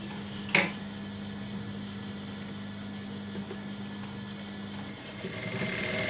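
A sewing machine stitching fabric for short pants runs with a steady low motor hum and faint mechanical whirring. One sharp click comes early, then the drone continues evenly at moderate volume.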